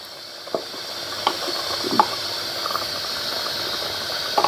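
A steady, soft hiss of a pot of biryani simmering and sizzling, with a few faint clinks and bubbling pops now and then.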